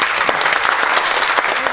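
A room full of people at an education session on sustainable peace breaks into dense, sustained applause, a loud and continuous crackle of many hands clapping at once, with no speech over it.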